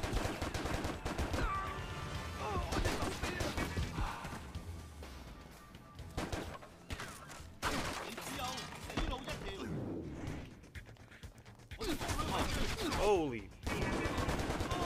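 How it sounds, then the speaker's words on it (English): Dense, loud gunfire and crashing impacts fill a shootout in John Woo's Stranglehold, with bursts of shots over a busy game soundtrack and a brief spoken exclamation. "Where are they shooting me from?"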